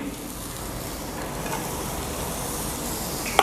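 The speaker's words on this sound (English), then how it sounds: "Now the oil is hot, so I'm going to add the finely chopped chili." Finely chopped chili sizzles in hot oil for an eggplant dip, a steady, close, hissing fry that holds evenly throughout with no voices.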